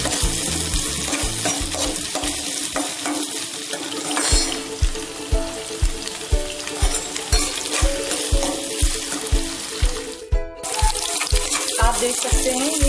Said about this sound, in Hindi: हमें इसको थोड़ा सा फ्राई कर लेना है।